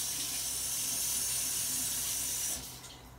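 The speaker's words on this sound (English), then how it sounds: "And I'm going to wash off my spoon." Tap water runs steadily into a kitchen sink as a spoon is rinsed off while making a ground turkey casserole, a close continuous hiss that cuts off near the end.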